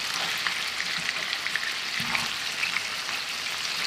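Salisbury steak patties fry slowly in a pan, giving a steady, close, bright sizzle with small pops and crackles throughout and no talking.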